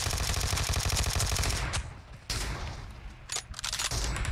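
Rapid automatic gunfire in the video game PUBG, a dense loud burst of shots, a brief lull, then a few sharp single shots and another stretch of firing, with no voices.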